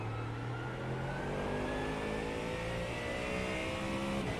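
A Ford Mustang GT3 race car in iRacing at The Bend circuit, its engine held at full throttle, a steady loud continuous drone with a slowly rising pitch and no talking.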